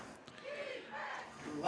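Fans at a women's football game, Seattle Spartans against the Lady Gades, raise a brief distant roar of cheering and shouting, stirred up by a crowd announcer, under a commentator's voice.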